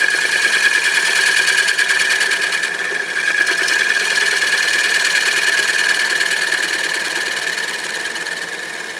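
A wood lathe spins steadily with a loud, even motor whine and a rapid rhythmic buzz as a detail gouge cleans up a hollow piece, continuous throughout and slightly fading near the end.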